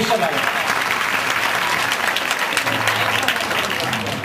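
Sustained audience applause at a school cultural programme in Jira, Amreli, India, a dense wash of many hands clapping steadily throughout, loud and close with no pauses.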